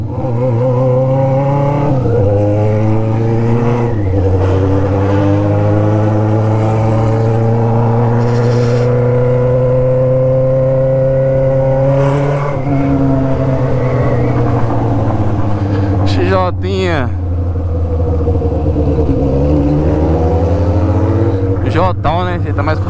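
A Yamaha XJ6 motorcycle with a straight-pipe exhaust revs loudly and up close, its engine note rising and falling in long pulls, with someone talking over it.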